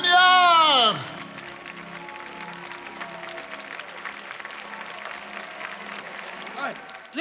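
A church congregation bursts into a short, loud round of applause that fades after about a second, followed by a long stretch of quiet murmuring and scattered low voices in the hall.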